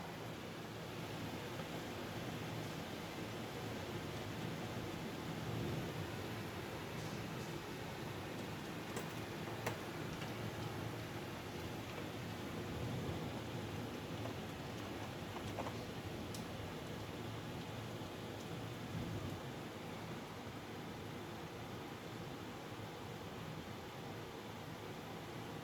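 Rain and hail pour down steadily during a December 2024 hailstorm in Sydney, making a dense, unbroken hiss with faint scattered ticks throughout and no voices.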